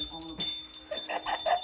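A bulldog rings a small bell to be let outdoors; a few short, bright jingles come through while a person talks over them.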